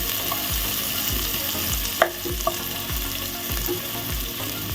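Onions fry in a pan for lomi, a steady close hiss of sizzling oil with a couple of sharp clicks partway through, and no talking over it.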